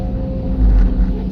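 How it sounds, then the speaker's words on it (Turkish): Low, steady diesel engine rumble of a Hidromek 230 excavator loading a truck, swelling louder midway as it revs up, then settling back to a strong drone. "Burada motor sesi de biraz değişime uğruyor ve hızlanıyor."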